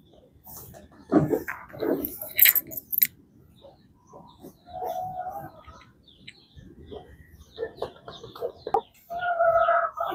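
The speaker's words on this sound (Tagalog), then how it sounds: "dito tayo sa mga manok natin," Rhode Island chickens crossed with a native breed cluck in short scattered bursts at a farm, fairly near, with a dog and other birds faintly in the background.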